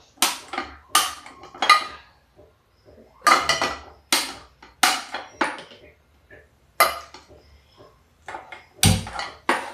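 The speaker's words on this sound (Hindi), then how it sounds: "ये फ्राई पैन चढ़ा देते हैं और गैस को जला देते हैं।" A frying pan is set onto a gas stove as the burner is lit, making a series of sharp metallic clanks and knocks at irregular intervals, close and loud with silences between.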